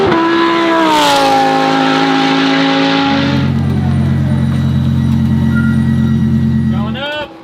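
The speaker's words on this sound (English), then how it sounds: "We are here to watch EmeliaHartford racing around the track today" A Lamborghini Super Trofeo race car drives around Buttonwillow track, its engine note rising and then dropping into a steady drone as it moves past, heard under talk and crowd noise.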